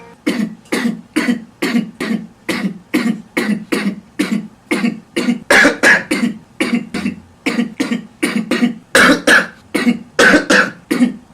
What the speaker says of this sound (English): here's a montage of every time I've coughed while trying to make this video.